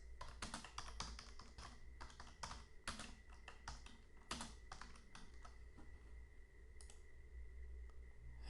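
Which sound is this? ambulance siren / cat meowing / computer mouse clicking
computer mouse clicking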